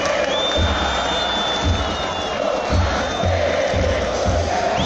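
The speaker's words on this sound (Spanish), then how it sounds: "Un tremendo partido de Paul Pineda, se merece todo el aplauso." A large football stadium crowd roars and cheers continuously during a Santiago Wanderers vs Everton match, a dense wash of many voices with occasional lower rumbles beneath.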